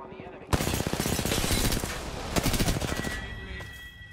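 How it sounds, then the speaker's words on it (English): Rapid automatic gunfire bursts from Apex Legends, dense and loud, with a sharp opening shot, a steady stream of rounds and a second flurry before trailing off, with speech mixed in. "Opening fire on the enemy."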